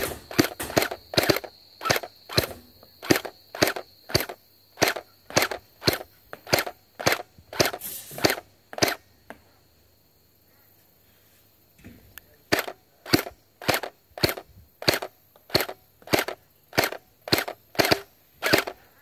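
A G36C gel blaster toy gun fires in rapid bursts of sharp, evenly spaced snapping shots, pausing briefly mid-sequence before resuming another loud, rhythmic volley, close and unaccompanied.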